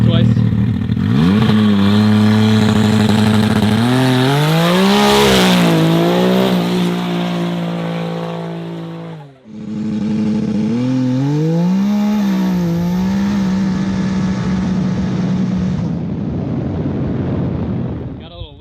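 A 500HP turbocharged three-cylinder Can-Am side-by-side accelerating hard on a concrete patch during test hits, a loud, close, rising engine scream that pulls through the gears, cuts out briefly, then screams again.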